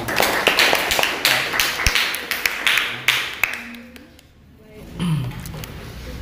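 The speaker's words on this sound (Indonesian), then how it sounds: "Iya, beri tepuk tangan dulu untuk Mai." Classroom students clapping, a brisk scatter of close hand claps over several seconds that thins out and fades, followed by a quieter stretch with faint room noise.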